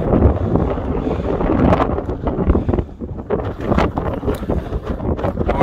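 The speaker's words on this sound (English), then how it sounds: "The wind is pretty bad" Strong wind on a mountain summit in the Scottish Highlands buffets the microphone with loud, continuous roaring gusts that swell and ease, and no talking is heard.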